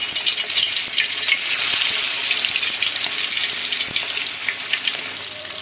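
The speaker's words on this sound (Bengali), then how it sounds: "চিকেনটা ভাজা শুরু করে দিই।" Marinated broiler chicken fries in hot oil, a steady dense sizzle and crackle running loud and close for the whole stretch, fading slightly at the end, with no talking.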